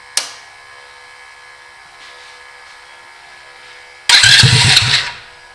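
Rat rod wagon go-kart engine cranking and catching, a sharp click at the start, then near silence before a loud, close burst of ragged engine noise for about a second that cuts off.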